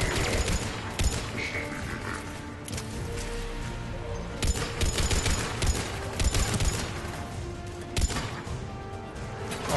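Rapid bursts of gunfire from a Mass Effect 3 battle at a fuel depot, with loud automatic volleys and sharp shots repeating over a steady background of in-game noise.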